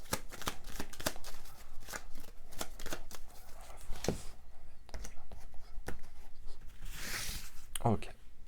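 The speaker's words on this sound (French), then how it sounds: "je vais juste remélanger mes cartes" Tarot cards being reshuffled by hand, a run of quick, crisp riffling and slapping bursts up close, with soft speech at times between the shuffles.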